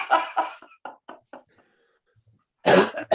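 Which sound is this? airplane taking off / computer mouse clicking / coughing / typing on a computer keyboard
coughing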